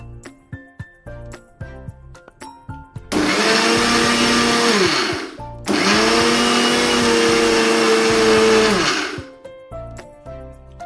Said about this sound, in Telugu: ఇప్పుడు దీన్ని మనం కొంచెం సేపు చల్లార్చిన తర్వాత మిక్సీ పట్టుకోవాలి